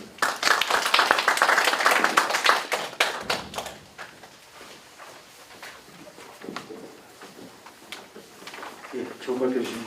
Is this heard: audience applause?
yes